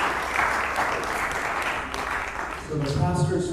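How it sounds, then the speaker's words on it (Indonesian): Steady applause from a church congregation fills the room for several seconds, with music or voices rising near the end. "Let's give him a hand."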